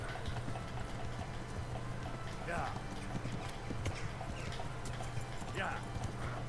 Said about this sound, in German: Da war eben gerade ein Pferd.